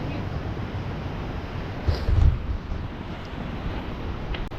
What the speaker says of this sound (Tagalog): Kung may ganito kalakas na hangin